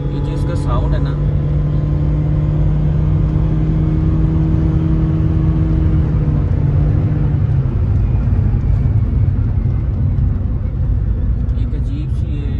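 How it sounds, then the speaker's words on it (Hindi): Toyota Aqua GR Sport engine held at full revs, a loud steady drone with a whistling tone that dips slightly partway through and runs continuously close to the microphone. "So let's start the engine, अब चलें आपको इसकी पिकअप चेक करवाते हैं फुल RPM दे के।"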